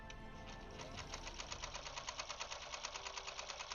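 A sewing machine stitches steadily around the edge of a Seahawks quilt, its fast, even mechanical chatter running close and continuous with a regular rhythmic pulse and no talking.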